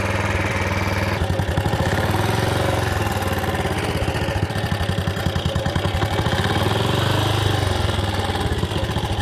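A BSA 441 Victor single-cylinder motorcycle engine running after a kick start, a loud close, steady thumping idle with rapid even pulses and mechanical clatter throughout, no voices.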